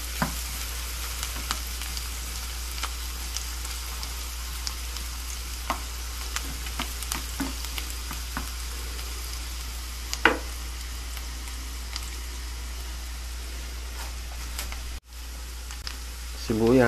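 Pork stir-frying in a pan with garlic, a steady sizzle under intermittent scraping and stirring clicks, while someone talks over it.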